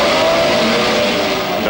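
Racing cars roar away at the start of a 1964 championship motor race on a 2.65-mile circuit, a loud, dense blur of engines with rising whine and faint tyre noise, sustained throughout.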